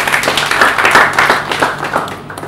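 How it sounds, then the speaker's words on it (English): Audience applause at a corporate bank executive introduction event, loud close clapping with a rhythmic, uneven texture for a couple of seconds. "A round of applause for you."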